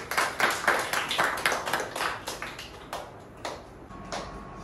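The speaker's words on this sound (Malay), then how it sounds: "Boleh bagi tepukan untuk diri sendiri" A burst of hand clapping from a small class of students, brisk and uneven, tapering off over a few seconds into scattered claps.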